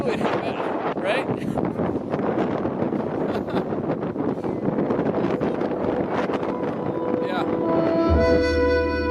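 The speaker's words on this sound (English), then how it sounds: "It's a little breezy here." Breezy wind on a California beach crowded with elephant seals, roaring steadily into the microphone as a continuous rough buffeting, with a short tonal sound near the end.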